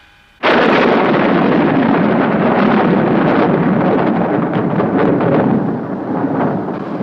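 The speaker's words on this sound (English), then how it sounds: "the storm's definitely on its way now, Jim." Approaching storm wind in an audio drama, a sudden loud roaring blast of broad rushing noise that surges in at once and holds steady, buffeting and rumbling, easing slightly toward the end.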